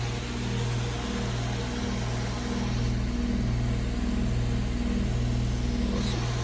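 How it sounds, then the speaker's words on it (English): A 2011 Ducane heat pump compressor running in cool mode gives a steady, loud mechanical hum with a low droning tone, continuous and close, with no talk over it. "There it is. There's the compressor."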